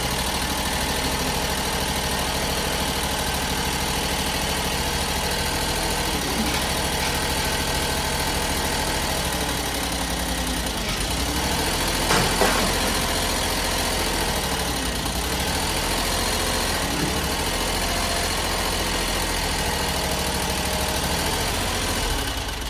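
A Chinese CRT 23 mini skid steer engine runs steadily at idle, a loud, close, continuous rumbling drone with a faint rattle and no talking.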